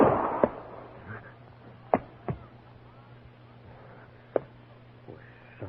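Several sharp cracks of a gunshot effect in a Western radio drama, spaced apart and fairly close, between stretches of quiet and spoken dialogue.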